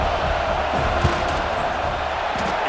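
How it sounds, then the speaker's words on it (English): Stadium crowd roaring steadily in a college football video game as a field goal unit lines up for a kick, a dense, continuous wash of noise with one brief thump. "This crowd trying to do its part to get inside the kicker's head."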